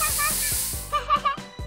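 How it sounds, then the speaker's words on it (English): A hiss of golden hair dye spray comes from a can in one sustained burst lasting about a second, close and fairly loud, then cuts off as a voice speaks over the end. "dyeing your hair with a golden spray"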